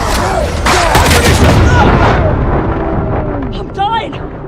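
A video game grenade blast: a loud, broad booming rumble that swells over the first two seconds and slowly decays, with voices talking over it and a brief electronic chirp near the end.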